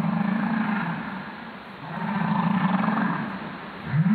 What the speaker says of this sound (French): avec des cris de baleine. Écoutez.